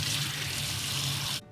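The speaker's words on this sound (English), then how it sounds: "you can add some cold water to" Cold water runs steadily from a kitchen tap into a sink, a loud continuous hiss and splash that stops abruptly near the end.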